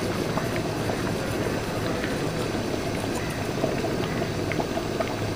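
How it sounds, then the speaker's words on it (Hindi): Yogurt with garam masala and black pepper bubbling and simmering in a large karahi for a big batch of chicken karahi, a steady dense boiling hiss that runs unbroken throughout. "अब दही को तकरीबन 5 मिनट के लिए हमने पकाना है"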